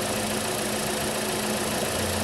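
A Chevrolet Cruze engine idles steadily after a head gasket replacement, giving off a continuous, close mechanical hum with a low rumble and faint ticking, with no speech.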